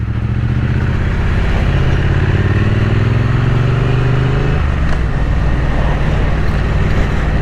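A 2024 Triumph Speed Twin 900 motorcycle runs with a steady, loud engine drone that rises in pitch as it accelerates through a gear, then settles into an even hum, with no talking.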